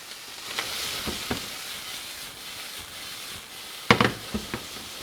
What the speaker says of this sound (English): I'm going to fry off the sausage